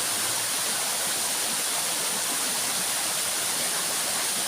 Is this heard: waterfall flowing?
yes